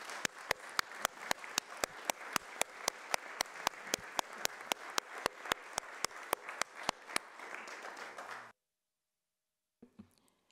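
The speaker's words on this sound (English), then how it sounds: "A big thank you with a round of applause." A round of applause at a borough full council meeting for environmental teams and work groups, heard as rhythmic, evenly spaced claps of a smallish crowd, steady for about eight seconds before stopping abruptly, followed by silence and a couple of faint knocks.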